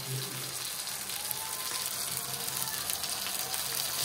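Bombil (Bombay duck) fish pieces fry in plenty of hot oil, turning reddish, with a steady, even sizzle close by that holds without a break from start to finish.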